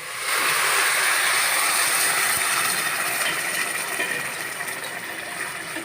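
Hot water poured into a pan of fried rice being cooked for tehari, giving a steady, loud broadband hiss and sizzle that holds throughout and eases slightly toward the end, with no talking.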